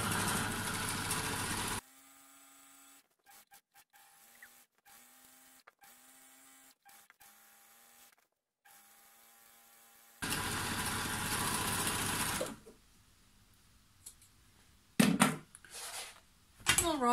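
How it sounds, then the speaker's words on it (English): Overlocker serger stitching along the edges of a fabric grocery bag, a fast, buzzing motor run heard close up in two stretches separated by quiet gaps with light handling clicks and taps. "so what I'm going to do now is overlock all four edges."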